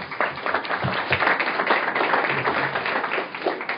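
A crowd applauds at a plenary session of an Open Government Partnership Latin America conference, a dense wash of clapping that stays steady throughout with no voices over it.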